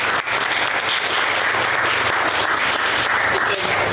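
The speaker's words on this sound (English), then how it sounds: "So first of all, you all should clap for yourselves." Dense audience applause at a literacy day celebration event, loud and continuous clapping from a crowd filling the whole short stretch without a break.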